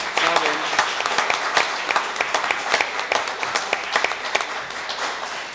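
A studio audience on a 1988 German TV talk show applauds to welcome Gerd Rosenthal, with dense, steady clapping that holds strong throughout.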